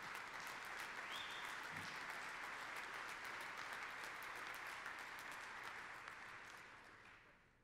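Audience applause at a congressional panel during a National Guard association conference, a steady wash of clapping from a large crowd that holds at full strength for several seconds and then begins to taper off near the end.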